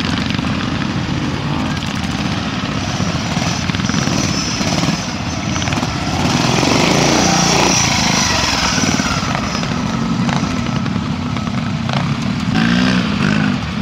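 A rigid-framed Matchless motorcycle at a trial, its engine running with a continuous rough drone that swells and fades as it works close by, with no talk over it.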